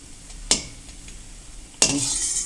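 Brinjal pieces deep-frying in hot oil, a steady sizzle broken by two sharp utensil clinks, with the hiss swelling louder after the second stir.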